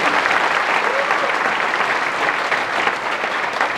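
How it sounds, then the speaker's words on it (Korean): Some two thousand people at a talk concert in a hall give loud, dense applause. The clapping is continuous and steady from start to finish, with a faint murmur of voices mixed in. "박수 한번 주세요"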